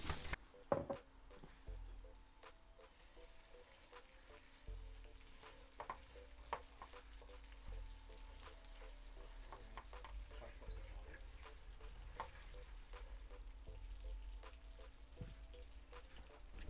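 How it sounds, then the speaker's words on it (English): Steady oily sizzling and crackling of green chillies and seeds frying in a pan, continuous and close, with occasional light clicks and scrapes. "As the seeds start to sizzle, add the chilies and fry for around 5 minutes to begin to soften"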